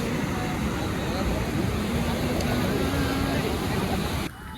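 Sea waves breaking on the beach at Puri, a steady loud roar of surf and washing water filling the whole stretch before dropping off sharply at the very end, with no talk over it.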